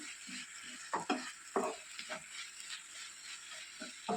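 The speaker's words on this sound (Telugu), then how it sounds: "మూత పెట్టకుండానే మనం ఇలా కలుపుకుంటూ తోటకూరని మగ్గించుకోవాలి" Amaranth leaves sautéing uncovered in a pan, with a quiet, steady sizzle and a series of soft scraping stirs at an uneven rhythm.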